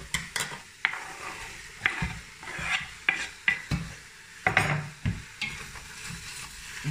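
Rougail saucisse, sausages in a pan, is stirred with a utensil that scrapes and knocks against the pan in regular strokes about every half second, over a soft close sizzle, with no talking.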